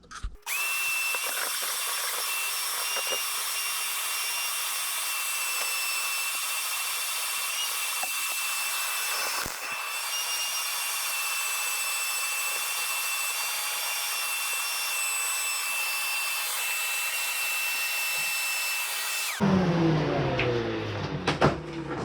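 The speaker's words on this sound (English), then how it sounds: "our next step here is to vacuum all these coils off on both sides" A shop vacuum runs steadily on the coils of a Garrison portable air conditioner, a loud continuous motor whine with airflow hiss lasting about twenty seconds before cutting off abruptly into a shuffling pause.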